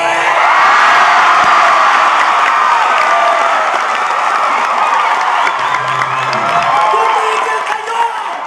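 A live comedy show audience in Ireland claps and shouts together in a loud, sustained mix of applause, cheers and voices that holds steady throughout.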